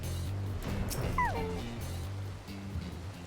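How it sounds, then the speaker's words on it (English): A dog in Final Fantasy XIV gives a short yelping, whimpering bark with a rising then falling pitch, heard once over a low game music bed, moderately near. "Other dog."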